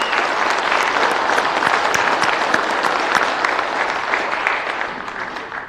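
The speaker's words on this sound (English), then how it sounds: "Let's give the cast another round of applause." Sustained applause from an audience at a Grand Lodge of Indiana Masonic Founders' Day event, dense steady clapping filling the room, fading slightly toward the end with no talk over it.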